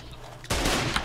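A gunshot in the Foxhole war game bursts in abruptly after near-quiet and holds as a loud, broad blast with rumbling tail, close and alone without talk.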